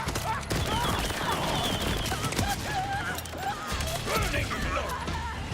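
Bursts of gunfire crackle repeatedly under a voice talking over them, several sharp shots scattered through the clip at moderate volume.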